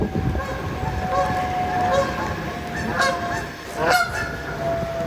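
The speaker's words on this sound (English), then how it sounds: "And the geese are very excited that we are moving." Geese honking by the River Thames while a small boat gets underway, several loud calls in bursts around a steady engine drone, with ducks nearby.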